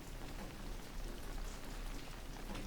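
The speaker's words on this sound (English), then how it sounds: "if you looked closely, you could see it was still raining just a little bit" Light rain falls outdoors in a backyard, a soft, even hiss of drops pattering on surfaces that stays constant and unbroken with no voices.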